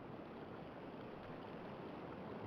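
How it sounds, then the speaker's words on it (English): Running water of a creek or brook in the adventure game Syberia, a steady, even rushing and babbling that stays at one level throughout, fairly close and heard alone with no talk over it. "I hear running water."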